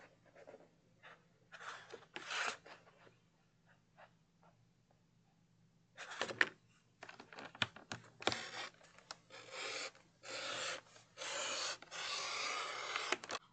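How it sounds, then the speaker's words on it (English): A paper trimmer slices paper in short scraping strokes, close and quiet, with paper sliding and rustling between the cuts. "slide it over, and trim off 1/8 of an inch"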